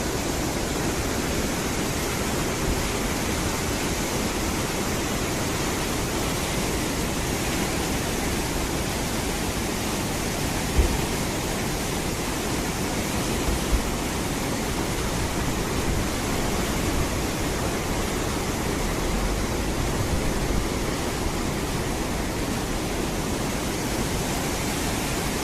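Flooded Ambika river in South Gujarat surging in spate, a loud, dense and unbroken roar of rushing water that holds steady throughout, with no voices.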